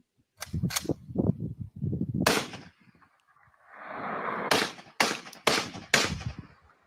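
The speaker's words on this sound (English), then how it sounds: "Guy's shooting at it. Listen to that." Shots fired at a drone in the New Jersey night sky, several sharp distant-sounding cracks in two clusters with a low rushing noise between them, no talk.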